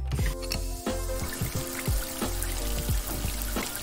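Water pours steadily from a shower head in a bathroom, a continuous splashing stream with some hollow, trickling filling tones, close and fairly loud with no talking.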